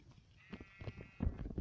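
Faint, thin bleats of Minecraft sheep come in short bursts against quiet background noise, soft and somewhat distant.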